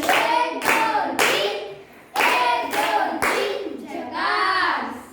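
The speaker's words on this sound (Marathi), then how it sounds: "झक्कास टाळ्या वाजवा" Children clapping in a classroom, several loud bursts of rhythmic group clapping in quick succession, with kids' voices mixed in.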